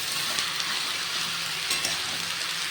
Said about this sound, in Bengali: চিংড়ি মাছ, পুঁই শাক আর কুমড়ো আলু বেগুনটা খুব ভালোভাবে আমি মিশিয়ে নিচ্ছি